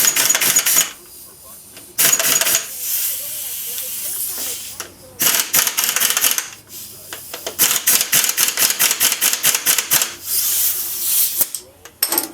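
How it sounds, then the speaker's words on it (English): Air impact gun with adjustable torque driving half-inch bolts on a Two Brothers exhaust bracket of a 2018 Harley Softail Fat Bob, loud rattling hammering bursts separated by hissing air pauses, close by. "The back of this air gun's got an adjustable torque thing on how much you want to run it in with."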